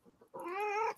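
A house cat lets out one drawn-out, wavering meow up close, preceded by a few soft rustles, with no talking over it.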